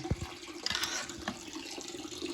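Water runs and splashes steadily during an aquarium water change, a soft continuous flow with a few small knocks and gurgles, fairly faint and close, without speech.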